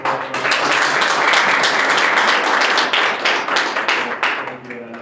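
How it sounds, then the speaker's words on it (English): Audience members at a Geneva panel discussion break into a round of applause, many hands clapping in a full, close wash that swells quickly and stays strong before thinning slightly at the end. "Maybe if I could invite the audience to a round of applause."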